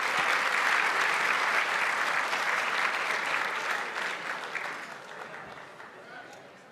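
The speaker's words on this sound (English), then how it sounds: "let's give Dr. Brown a round of applause" An awards gala audience applauds in a dense, sustained wash of clapping that holds strong, then gradually tapers off.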